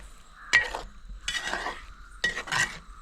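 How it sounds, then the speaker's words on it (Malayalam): Sardine thoran cooking in a pan as the lid comes off and a spoon stirs it, three separate bursts of scraping and clinking with near-silent gaps between them, close by. "നമ്മൾ ഇടയ്ക്ക് ആ മൂടി ഒന്ന് മാറ്റിയിട്ട് ഒന്ന് ഇളക്കി കൊടുക്കുകയാണ്"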